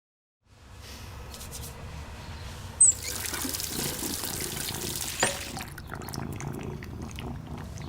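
Water runs steadily from a tap for hand washing, a continuous pouring trickle that holds at moderate level for several seconds, with a couple of brief clinks or splashes partway through.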